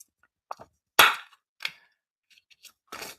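A circle paper punch cutting through card, several sharp clicks and snaps at irregular intervals, close and fairly loud, with one especially strong crack and softer handling rustles between.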